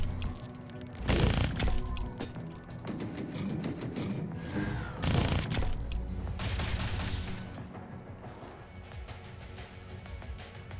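Rapid bursts of gunfire and booms in the tactical video game Reverse Collapse, loud and dense, with several heavy volleys among steadier shooting.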